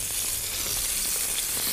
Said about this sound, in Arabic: حته اللحمه دي ما بتاخدش وقت طويل على النار